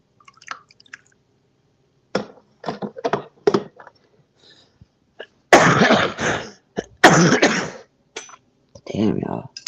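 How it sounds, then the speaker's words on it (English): Harsh throat clearing and several rough, raspy coughs from a person with a worsening cough, heard close in a quiet room, with short pauses between bursts. "My cough is just getting worse."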